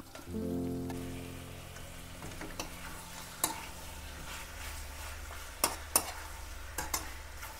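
Onions fry in a pan while being stirred, with a soft sizzle under scattered scraping clicks and taps of a spoon, plus a low hum at the start.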